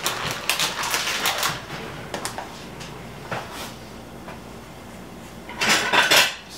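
A utensil scrapes and clinks against a pot of small pasta being stirred, a few irregular metallic knocks and scrapes with quiet gaps between them, close and fairly sharp.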